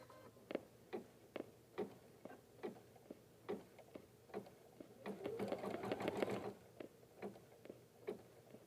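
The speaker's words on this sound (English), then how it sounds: "The next thing that it's going to stitch is going to be a placement line for my lining fabric." Embroidery machine stitching a placement line for lining fabric on an in-the-hoop gift bag, steady ticking needle strokes at an even rhythm, with a brief denser whirring burst partway through, close and quiet.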